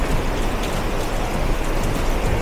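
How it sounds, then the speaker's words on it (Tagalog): Dense, steady rain roars without letup, a broad hiss with a low rumble underneath, loud and close throughout. "Pero tingnan nyo, ang lakas ng ulan, no?"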